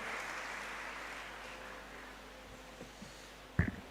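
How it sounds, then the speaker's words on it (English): Faint, distant applause from an audience at a university department's anniversary launch, a soft wash of clapping that gradually thins out before a brief bump of nearby noise at the end. "A round of applause for Professor Godwin Hawandari."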